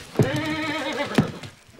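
A horse whinnies in a single drawn-out neigh, close and clear, with a couple of brief hoof knocks at the start and a short sharp burst partway through.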